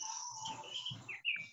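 Birds chirp and call outdoors in short, bright bursts over steady background hiss, with a sharper tweet near the end; no one speaks.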